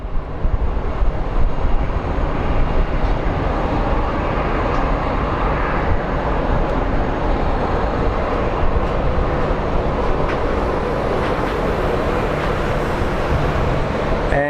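A Southwest airliner taxiing at Phoenix Sky Harbor airport, a loud continuous broadband jet roar that holds steady and close for the whole stretch, with no voices over it.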